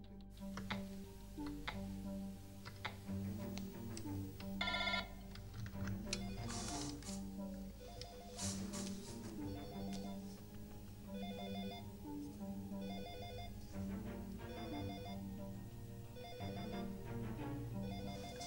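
A telephone in a former parliament deputy's apartment rings repeatedly with incoming calls, a steady pattern of tonal electronic rings repeating over a continuous low hum, with no voices.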